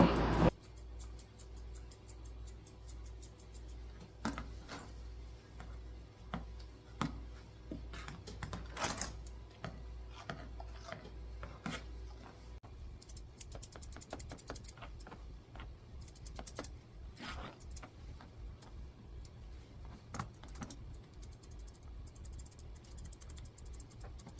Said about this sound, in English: I'm using my chunkers to trim up under her chest